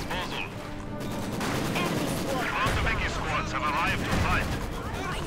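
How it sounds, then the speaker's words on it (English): Gunfire and artillery in a Company of Heroes 2 winter defense battle, dense overlapping shots and blasts rumbling continuously throughout, with voices talking over the combat. "Let's man that machine gun."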